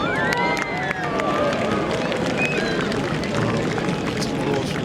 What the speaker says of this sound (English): It's applause from the crowd